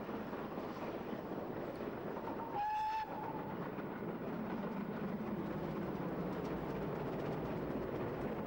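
A GWR Manor class steam locomotive, Hinton Manor, runs with a steady, loud rumble of wheels and exhaust, broken early by one short whistle blast.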